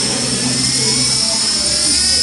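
A 17.5 hobby electric motor spins with a loud, steady, high-pitched whine that holds constant throughout, close up and with no voices.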